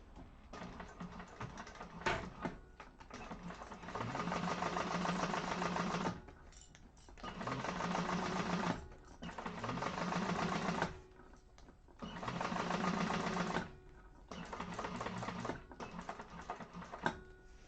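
Sewing machine top stitching and basting the sides of a handbag, running in steady bursts of a few seconds each separated by short pauses, close and moderately quiet, with no talking.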